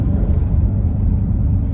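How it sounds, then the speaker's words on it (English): A 2022 Ford Mustang EcoBoost drives by, its engine and exhaust giving a steady, loud low rumble for a brief moment with no talk over it. "right away you could hear the stark difference of the outside exhaust note versus inside"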